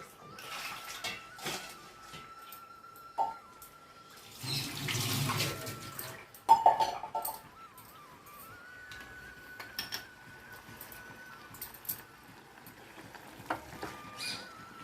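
Water poured into a cooking pan on a kitchen stove while preparing a spicy chicken fry, heard as a short splashing pour in the middle of the clip, set among quieter clinks and kitchen sounds.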